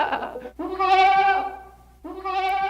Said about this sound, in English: That's a baby lamb calling for its mother.